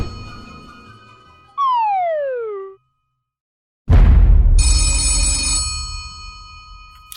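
A telephone rings in a comic audio drama: a bright electronic ring, then a falling slide effect and a pause, followed by a loud bell-like ringing that fades out.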